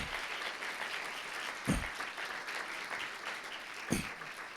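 Applause in a church service, a soft, continuous wash of clapping at low level, heard from a distance, with a couple of louder thumps standing out.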